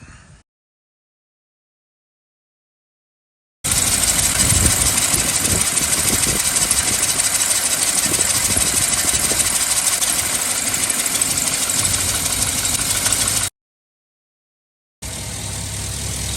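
A Chevy truck's engine after an intake manifold gasket repair, starting abruptly and settling into a steady, loud idle for about ten seconds, then cutting out and running again.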